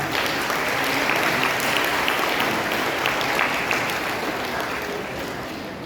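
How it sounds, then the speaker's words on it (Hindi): An audience at a school inter-house patriotic play competition claps loudly and continuously, a dense, even roar of hands that fades slightly toward the end, with no voices over it. "जोरदार तालियों के साथ स्वागत करें"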